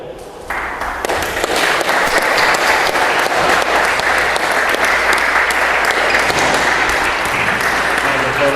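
Loud, sustained applause from a racquetball crowd at a championship awards presentation, clapping building quickly after a brief quieter start and continuing steadily to the end.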